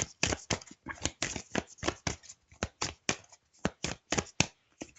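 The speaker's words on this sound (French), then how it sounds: "je vais couper le jeu. Je vais prendre une carte." A deck of tarot cards is shuffled and cut by hand, a rapid run of crisp riffling flutters and slaps, close and clear with brief pauses between bursts.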